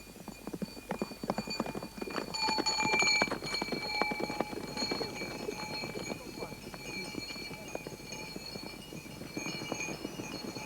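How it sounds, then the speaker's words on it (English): Horses' hooves clatter in a rapid clip-clop rhythm through a Tibetan horseback race, a steady busy patter with faint tonal ringing above, maybe bells, running the whole stretch at moderate distance. "Horseback races are held to remind the god of the once dreaded Tibetan mounted warriors"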